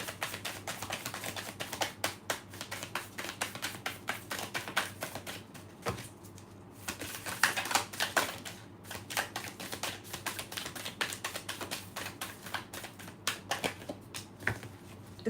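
Tarot cards are shuffled and flicked in rapid crisp riffles and snaps, close and fairly quiet, with short pauses between bursts and no talking.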